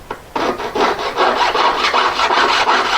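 A jeweller's saw cuts off a hand-carved five-stone ring head, a close, loud, rhythmic rasping of quick back-and-forth strokes after a brief soft start, alone without talk.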